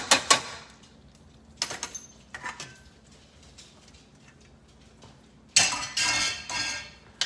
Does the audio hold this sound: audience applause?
no